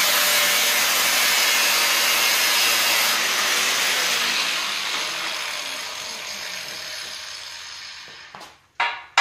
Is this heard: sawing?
yes